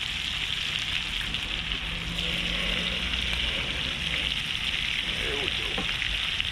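Blackened redfish frying in a pan being rotated on the heat, a steady close hiss with light crackling under a brief spoken remark.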